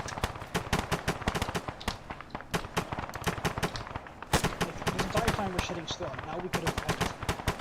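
Rapid gunfire in a military video game, dense bursts of sharp cracks and automatic fire from several weapons, loud and continuous with brief pauses, faint voices underneath.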